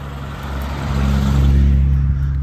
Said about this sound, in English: there's one of our lots here coming past in his E-Type.